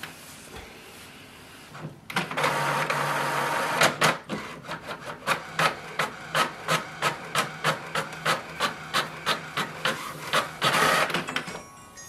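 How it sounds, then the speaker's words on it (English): An HP Envy 6432e inkjet printer prints a Wi-Fi Direct password page: a click, then a long whirring feed, followed by a rapid train of regular mechanical pulses as the print head shuttles, ending in a final whir. "it will print a page for"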